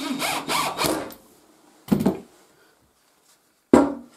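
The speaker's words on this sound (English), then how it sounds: "we'll screw the last one in." A power drill drives a screw about an inch into a piece of wood in three short bursts. The first is longer, stuttering and whirring, then two brief pulses follow, heard close up with quiet pauses between.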